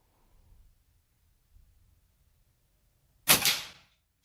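A Ruger Impact Maxx .22 break-barrel air rifle fires one sharp shot from a bench rest at an indoor range, a single close crack that fades quickly after a near-silent lead-in.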